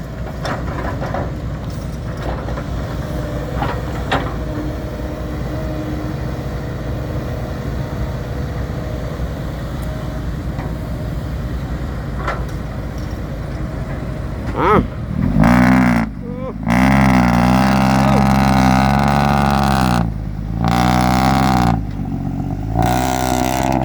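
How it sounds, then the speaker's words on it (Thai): A modified car engine at a street racing show runs for about fifteen seconds with a steady rough idle, then roars through several loud revs separated by short pauses. "เครื่องยนต์ห้านะคันนี้นะ"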